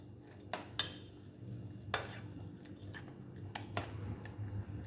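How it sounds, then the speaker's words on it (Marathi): A spoon scrapes and clinks against a pan while an amla mixture with chutney powder is stirred, a few sharp metallic taps over a soft sizzling bed, close but quiet. "आता हे बघा, हे छान हलवून घेऊया, एकजीव करायचं"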